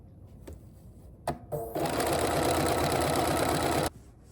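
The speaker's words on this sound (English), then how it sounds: "I have finished sewing the fishing line." A sewing machine stitching fishing line into a dress hem, a few short starts before a loud steady whirring run of about two seconds that stops abruptly.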